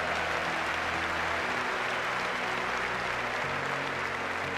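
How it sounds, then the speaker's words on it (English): A crowd at an inspirational speaking event gives a round of applause, a steady, continuous patter of clapping that runs evenly throughout with a low hum beneath. "Give her a round of applause"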